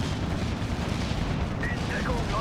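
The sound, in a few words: grenade bundle explosions in Steel Division 2 video game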